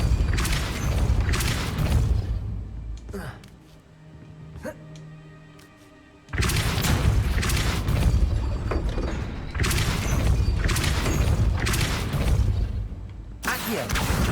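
The Depulso spell is cast repeatedly in the video game Hogwarts Legacy. Each cast lands as a loud, forceful blast-like burst, and the bursts cluster before and after a quieter stretch in the middle.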